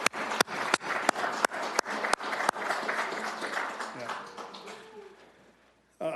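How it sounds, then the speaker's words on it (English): A crowd at an Elbert County 150th anniversary gathering claps for committee members, first in scattered sharp claps and then in a fuller round of applause that fades out, with a short burst at the end. "could you raise your hands and just let's give them a round of applause"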